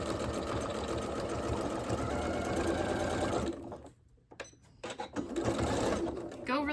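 A sewing machine hums in a fast, steady run while stitching a dress hem, stops briefly as the presser foot lifts, then resumes in short bursts, with a voice talking over it throughout.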